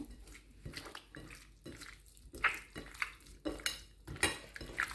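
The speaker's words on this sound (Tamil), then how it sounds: "இப்போ வந்து இவ்வளோத்தையும் வந்து நல்லா மிக்ஸ் பண்ணுவோம்" Chicken pieces being mixed by hand with sauce marinade in a bowl for Chicken 65, giving soft, wet squelching and repeated clinks against the dish, close and fairly quiet, with no talking.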